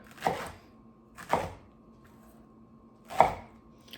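A knife cuts through watermelon for a watermelon, pineapple, celery and ginger juice, making three distinct chopping strokes with quiet pauses between, close and fairly soft.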